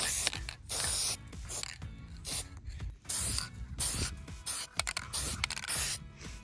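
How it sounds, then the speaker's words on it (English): Glossy protective finish sprayed onto custom-painted Vans shoes, heard as repeated short hissing bursts from an aerosol can, close and fairly quiet, with brief pauses and clicks between sprays. "The last step though is to spray these with kind of a glossy finish to protect them a little bit"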